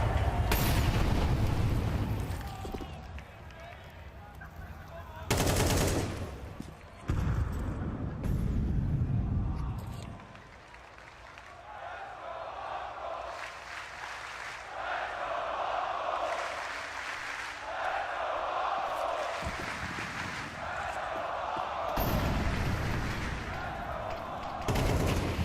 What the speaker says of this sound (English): Oh, a missed shot from the AWP.